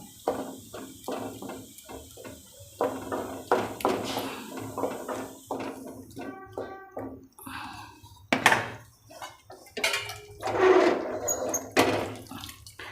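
Cold water splashes and pours into a hot pan of paneer for cheese paneer gotalo, with short bursts of pouring, clattering and bubbling up close.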